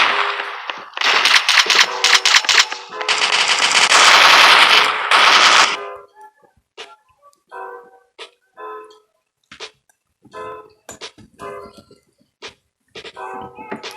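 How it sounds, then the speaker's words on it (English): A grenade launcher firing in the Coalition mobile FPS game, opening with loud dense bursts of rapid blasts for several seconds, then sparse sharp clicks and short reports in the game. "so now we'll show off our grenade launcher"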